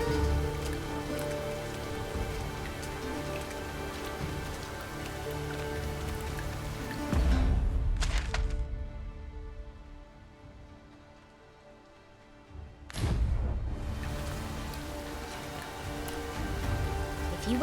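Steady rain pours across the landscape in Dragon's Dogma 2, a dense continuous hiss that briefly drops away to near silence for a few seconds before returning at full strength.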